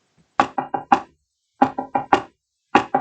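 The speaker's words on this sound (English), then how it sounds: "hearing the knocks as it was going on" Knocking from the Doctor Who episode around the Tenth Doctor's end, heard as a dry, close rap in groups of four: one set, a pause, a second set, then the start of a third.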